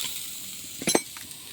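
Cooked curry of kochu stalks and small fish is tipped from a pan onto a plate: a short, close clatter and wet scrape lasting under a second, with a low kitchen hiss around it.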